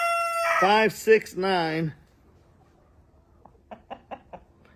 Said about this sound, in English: beautiful rooster